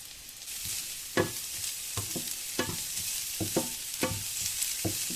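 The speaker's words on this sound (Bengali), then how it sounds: "পেঁয়াজটা হালকা হালকা ভাজা হলেই আমি এর মধ্যে দিয়ে দেবো গাজর কুচি।" Chopped onion and carrot sizzle steadily in a hot pan while a spoon scrapes and stirs them in sharp, roughly second-spaced strokes, close and fairly loud, with no talking.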